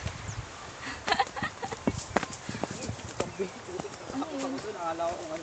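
Goat hooves clatter irregularly on rock nearby, with scattered taps and scrapes, while people talk quietly in the background.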